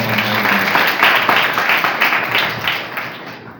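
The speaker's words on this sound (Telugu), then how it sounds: "గట్టిగా చప్పట్లు కొడదాం" An audience at a lecture in a prayer house in Yernagudem, Andhra Pradesh claps in sustained applause, dense and steady, fading slightly toward the end.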